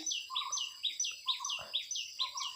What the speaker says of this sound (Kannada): ಇದು ನಾನು ವಿಡಿಯೋ ರೆಕಾರ್ಡ್ ಮಾಡುವಾಗ ಪಕ್ಷಿಗಳ ಕೂಗು